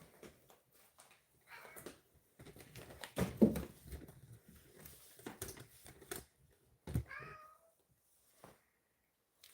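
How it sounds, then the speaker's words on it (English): A cat meows several times, scattered across the stretch in short, fairly close cries, one louder and drawn out near the middle, with quiet pauses and light shuffling noises in between. "Meow."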